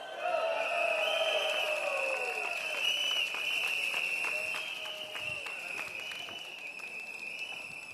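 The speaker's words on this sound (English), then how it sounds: "give yourselves a round of applause." A crowd at an outdoor Singapore Democratic Party rally applauds and cheers for several seconds, with whistles and sustained clapping under a tonal hum, slowly easing off toward the end.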